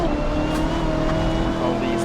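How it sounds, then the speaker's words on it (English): A GT3 race car engine with a modified sound set in Assetto Corsa drones steadily and loudly at high revs with a constant whining tone, while a voice talks over it. "I got a sound mod installed for this car as well. Sounds better than the original."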